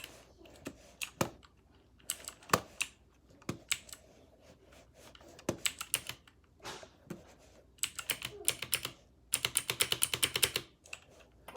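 Keys clatter on a computer keyboard during a game of Warfare, with sparse clicks and short bursts of fast typing, close and fairly quiet, building into denser rapid runs near the end.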